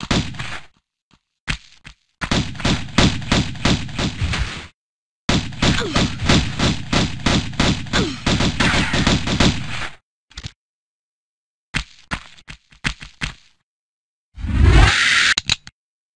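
Gunshots in the original Tomb Raider game featuring Lara Croft: rapid clusters of sharp, close pistol-like shots in two long runs broken by silences, then scattered single cracks and a final louder impact.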